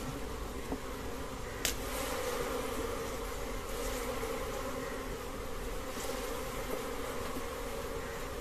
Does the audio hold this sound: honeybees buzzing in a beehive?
yes